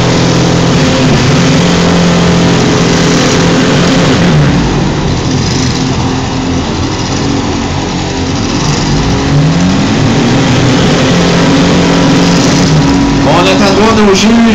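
A car engine revs hard and strains in a sustained, loud roar while stuck and unable to move at a six-cylinder free-for-all event, with pitch wavering up and down and people talking over it.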